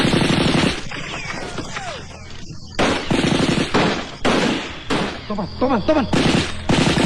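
Assault rifles fire in a film battle scene between Dutch troops and Indonesian soldiers, with loud rapid bursts repeating in clusters and brief gaps between them, under a voice.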